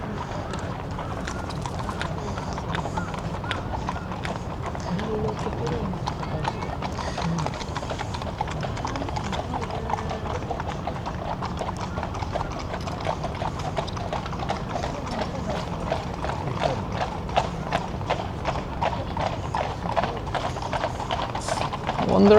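Horse-drawn carriages roll past in a street parade, with steady, dense clip-clop of hooves throughout, fairly close and continuous, and a faint hint of crowd sound underneath.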